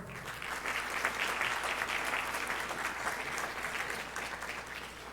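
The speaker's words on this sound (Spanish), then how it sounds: "el doctor Juan Guillermo López Luca de Tena, a quien recibimos con un fuerte aplauso" Sustained applause from a ceremony audience welcoming the president of the Peruvian Academy of Law at an induction ceremony, steady and fairly loud throughout without speech.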